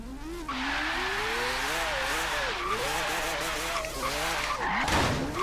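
Mazda MX-5 with a four-rotor engine drifting in Forza Horizon 3, a continuous loud engine whine rising and falling through gear changes with tire squeal mixed in, ending in a brief rough burst.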